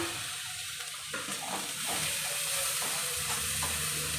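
Coconut and cooked horse gram frying in a pan with stirring, a steady hiss of sizzling with scraping stir strokes, close and alone.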